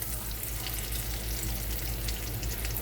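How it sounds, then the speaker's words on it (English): Steady, dense sizzling of fish frying in hot oil, a constant crackle close by with no voices. "I'm frying some of everything, because I like my fish kind of, you know, hot."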